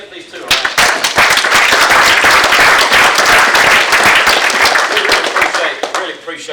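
Audience applause at a workforce housing meeting for two speakers, dense sustained clapping from a sizeable crowd filling the room for several seconds before tapering off.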